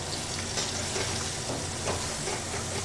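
Mustard paste going into sautéed potatoes frying with shrimp and okra in a pan, a loud steady sizzle and hiss, close and continuous with faint stirring scrapes.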